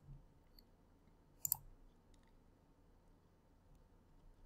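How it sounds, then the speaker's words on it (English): A single mouse click lands on an update button, a faint brief double tick close by against a quiet room background. "So click on update."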